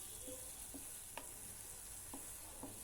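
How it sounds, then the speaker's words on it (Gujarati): Green grape halwa with ghee being stirred in a pan, giving a few faint, scattered scrapes and soft sizzles against a quiet background. "હવે આવી રીતના જો આપણે હલાવીએ તો બધું જ મિશ્રણ ભેગું"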